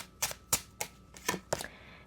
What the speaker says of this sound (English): let me shuffle a bit more